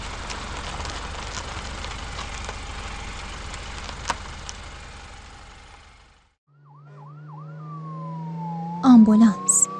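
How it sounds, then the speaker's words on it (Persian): Steady engine rumble and road noise give way to an ambulance's wailing siren that warbles several times, then a long falling tone, close and loud. "آمبولانس"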